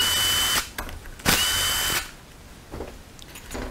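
A power tool drives out 7 millimeter valve body bolts on a 6L80E transmission, two loud close bursts of whirring and ratcheting with a short pause between them, then quieter handling noise.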